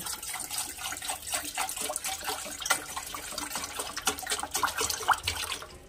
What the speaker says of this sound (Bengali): বসিয়ে দিয়েছি একটা বাটি, দিয়ে দিচ্ছি জল।